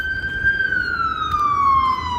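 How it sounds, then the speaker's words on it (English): A police car siren wails outdoors in one long, slowly falling tone, loud and fairly close over a low rumble of traffic. "That's the sound of the police."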